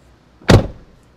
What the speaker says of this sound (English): Now when you shut up the door